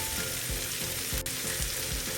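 Garlic sizzles in a hot pan over a high flame for a quick shrimp dish, a steady close frying crackle with soft rhythmic stirring scrapes and no voices.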